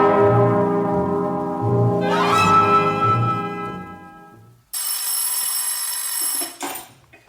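An old telephone rings with a loud, bright, metallic bell tone that decays, then a second sharper burst of ringing starts and cuts off abruptly, as if the receiver is lifted.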